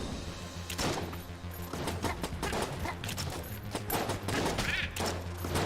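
Rapid bursts of gunfire from the video game Enter the Gungeon, with repeated sharp shots and thuds layered over game music, loud and continuous.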